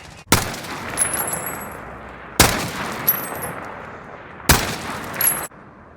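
Three AN-94 hyperburst firings in a video game, each a sharp, loud two-round burst with a metallic ring trailing off, spaced about two seconds apart, with no talk.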